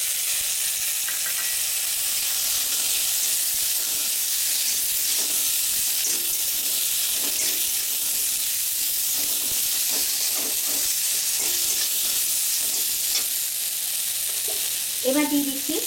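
Dates hitting a hot pan for a date and aamsotto chutney, giving a loud, steady sizzle with hissing steam and occasional stirring scrapes throughout.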